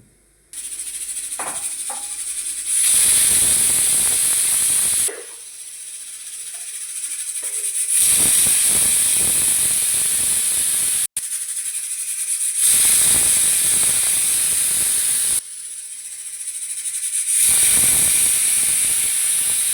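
A pressure cooker on a gas stove cooking rice lets off loud, close bursts of whistling steam hiss, about four long blasts each lasting a few seconds, separated by quieter gaps, with no voices.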